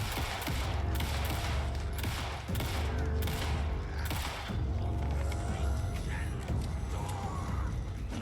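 Gunfire from the video game Alan Wake 2, heard as a rapid series of loud, broadband shots in bursts throughout, mixed with mechanical clicks and game ambience.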